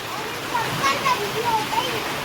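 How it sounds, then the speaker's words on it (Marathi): Steady rushing water noise like a waterfall, continuous and broadband, with faint voices talking over it. "लय मस्त पाणी पडतोय"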